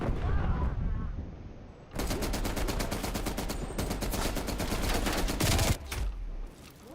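Light machine gun fire in the multiplayer shooter Call of Duty: Cold War, a long, loud burst of rapid automatic shots running several seconds without break, preceded by mixed game noise and trailing into scattered distant gunfire.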